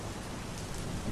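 Soft, steady rain falls at night as a dense, even patter with no breaks or other sounds.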